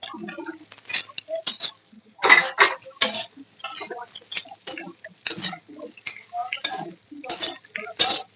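Taro and potato pieces go into a pan already holding five-spice seeds with ginger and cumin paste, and are stirred, giving close, irregular clinks, scrapes and clatter of a utensil against the pan.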